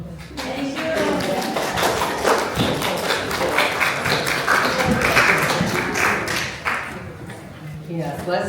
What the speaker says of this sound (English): let's give him a big applause because we really appreciate it